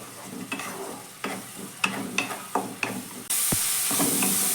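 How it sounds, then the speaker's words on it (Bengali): Ground onion, chili, cumin and tomato paste fry with cardamom in a pan for a soybean curry, with stirring scrapes and sizzling bursts in an irregular rhythm, then a sudden, louder continuous sizzle takes over. "এবার দিয়ে দিচ্ছি বেটে রাখা পেঁয়াজ লঙ্কা জিরে টমেটো পেঁয়াজকে ভালো করে এখানে কষিয়ে নিতে হবে"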